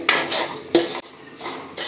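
Semolina stirred and fried in ghee in a pan, several quick scraping strokes of a spoon against the metal pan, close and fairly loud, with no voices.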